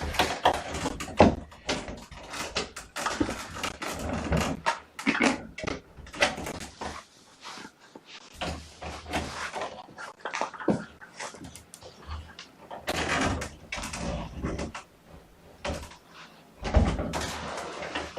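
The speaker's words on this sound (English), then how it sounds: "Doors have to shut." Doors shutting inside a house where kittens have been playing, several sharp knocks and thuds at irregular intervals with rustling, handling noise and some panting in between.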